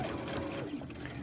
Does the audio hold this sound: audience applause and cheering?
no